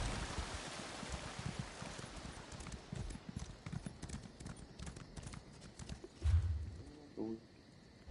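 Hoofbeats of a horse galloping and jumping in Elder Scrolls Online, a rapid, steady clip-clop close by, with a heavier thump near the end and a brief voice over the top.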